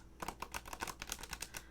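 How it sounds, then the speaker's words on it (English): A deck of tarot cards is shuffled up close, giving a quick run of crisp papery clicks and flutters in an uneven patter, quiet and with no one talking. "shuffling a deck like this 7 times is the most complete mixing"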